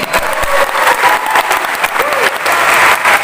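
A crowd at the inauguration of Forbi's organizational board claps steadily for several seconds, dense and fairly loud, with a few voices mixed under the applause.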